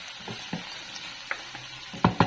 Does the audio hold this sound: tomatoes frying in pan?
yes